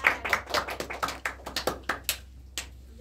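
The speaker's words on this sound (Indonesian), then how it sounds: "Beri tepuk tangan untuk teman-teman kalian." Students in a high school maths classroom give a short burst of scattered hand clapping, a dozen or so uneven claps that fade out over about three seconds, with no one speaking.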